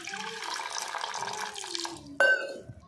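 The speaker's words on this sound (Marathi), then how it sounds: "आता याच्यामध्ये पाणी घालून घेते." Tap water running steadily into a pot of masoor dal for washing and cooking, a continuous close splashing flow that ends with a brief clink near the finish.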